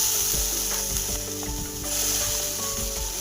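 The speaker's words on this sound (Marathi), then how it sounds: "या शेंगा आपल्याला त्या पण थोड्या भाजून घ्यायच्या लाल" Cluster beans roasting in a hot pan sizzle continuously. Repeated scraping and clinking strokes of stirring sound close up, and there is no talking.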